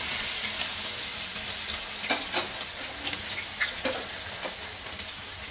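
Ginger dropped into hot coconut oil in a pan sizzles with a loud, steady frying hiss, broken by scattered crackles and pops as it cooks up close.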